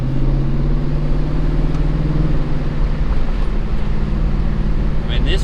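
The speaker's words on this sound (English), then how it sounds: "That was just a third gear pull" Chevy S-10 with a swapped 5.3 LS V8 pulling hard in third gear, a loud steady engine drone with strong low harmonics held throughout.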